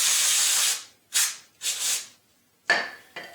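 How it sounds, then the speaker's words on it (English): Brake cleaner sprayed from an aerosol can onto the side of a Mercedes 560SL engine during thread repair: a loud, steady hiss of under a second, then several shorter close bursts after brief pauses. "I'm going to squirt it with a little bit of brake clean over here on the side"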